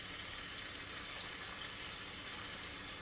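Broth pours steadily from a carton into a cooking pot for jambalaya, a smooth continuous gush of liquid with no break and no talking.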